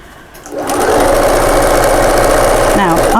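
A sewing machine top stitches a cushion at stitch length 3 with cream thread, its motor rising after a brief pause into a loud, steady, unbroken whirring drone close by.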